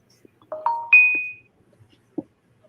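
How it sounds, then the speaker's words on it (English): A phone's text notification chime plays a few quick rising tones, fairly loud and close, then stops, with a soft knock afterward and no talking. "This is my text notification doohickey on my phone."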